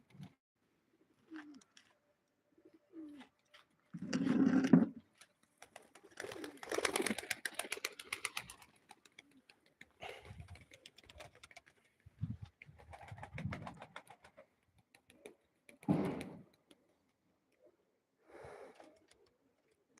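Pigeons being flown at a live pigeon auction, giving scattered bursts of cooing and fluttering that come and go over a quiet background, some close and loud, others fainter, with no talking.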